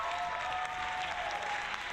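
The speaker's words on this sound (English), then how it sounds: "a sound effect of fake clapping" Canned applause from a button sound effect, fake clapping that rings out steady and dense for about two seconds, loud and alone with no voices.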